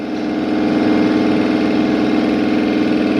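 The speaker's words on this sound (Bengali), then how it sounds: "এইখানে মোটামুটি নাইট্রোজেন মেশিন স্টার্ট হয়ে গেছে" A nitrogen tyre inflation machine runs steadily at a tyre shop, its motor humming in a low, even drone that builds up in the first half second, then holds level.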